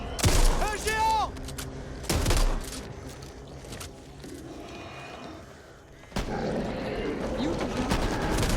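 Gunfire in the video game Back 4 Blood includes a sniper rifle. A few loud blasts and bursts come over a busy game soundscape, with a lull partway through before the action picks up again.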